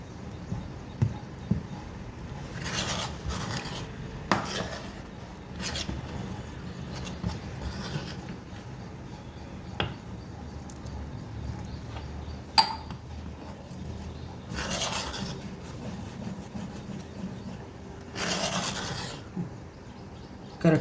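Idli batter mixed with soda and water by hand in a vessel, slow intermittent rubbing and scraping with occasional clinks of metal, close and fairly quiet.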